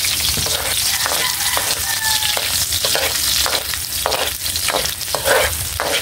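Onion sautéing in a hot pan, a steady loud sizzle with repeated scraping strokes of a spatula stirring at a regular rhythm, close up.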